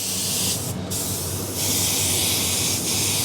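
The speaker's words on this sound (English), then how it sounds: "you can hear I've activated my extraction fan" Continuous broadband whooshing of an extraction fan clearing airbrush overspray, running steadily, with brief dips and a short gap in the airflow noise.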